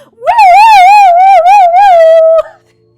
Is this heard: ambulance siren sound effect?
yes